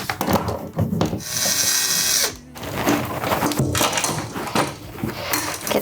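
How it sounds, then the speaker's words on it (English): A power drill backs a screw out of a bathroom wall during a small bathroom makeover, with bursts of whirring and ratcheting at close range, a brief pause, then more rough grinding and rattling. "I might need to unscrew that a little bit more."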